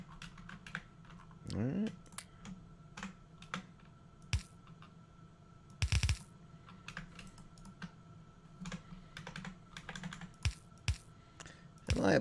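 Rapid computer keyboard typing rattles along in irregular bursts of clicks throughout a modded Factorio livestream session, with someone speaking briefly over the keystrokes.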